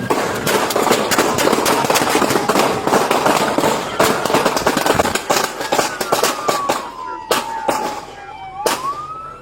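A suspect firing on LAPD officers during a chase: rapid loud cracking shots in a long, uneven volley, and a police siren sweeps in as the shooting thins out near the end.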